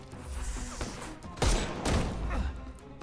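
A loud gunshot in the video game Sherlock Holmes: Chapter One rings out with a sharp crack and a rumbling tail, set against steady in-game ambience.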